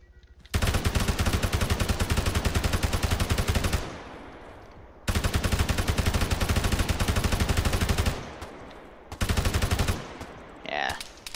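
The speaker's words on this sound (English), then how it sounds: "Can use this auto rifle." Auto rifle fire in the Arma 3 military video game, three long loud sustained bursts of rapid automatic shots close up, separated by short pauses, with a brief voice near the end.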